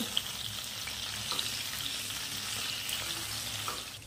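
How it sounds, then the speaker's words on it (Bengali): Pieces of rohu fish frying in hot oil, a steady soft sizzle with faint crackles, close and continuous with no talking. "উল্টে পাল্টে একটু ভালো করে ভেজে নিতে হবে"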